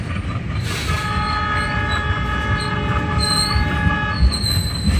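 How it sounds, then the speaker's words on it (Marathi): A freight train hauling crushed stone grinds loudly through Raimoh railway station near Beed, with heavy wheel rumble, sustained squealing tones and a horn-like drone throughout. "रायमो रेल्वे स्टेशनवर गाडी आलेली आहे. आणि ही गाडी बीडच्या दिशेने चाललेली आहे बघा."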